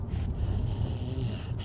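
A voice imitates an elderly grandmother's snoring with one short, raspy, throaty snore held for under two seconds, close and clear.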